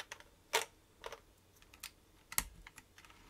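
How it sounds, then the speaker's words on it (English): GMK keycaps being pressed onto a mechanical keyboard with Nixie switches (LifeZone LZ Iron build): a few sharp plastic clicks and taps spaced irregularly, close and fairly quiet, no talking. "putting the keycaps on is just a very simple job here"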